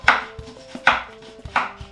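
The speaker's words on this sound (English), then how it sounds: "when cutting lime wheels, what we're looking for are thin slices" A knife cuts through a lime on a board, making thin wheels: three crisp, close chops fall at a steady, unhurried pace with brief quiet gaps between them.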